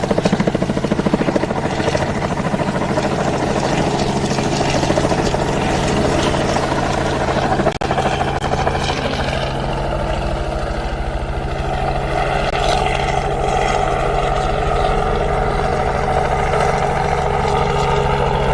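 Continuous helicopter rotor thudding and engine whine, loud and steady throughout, with a faint breezy rumble underneath, during an elephant rescue in Balule Reserve, Greater Kruger National Park.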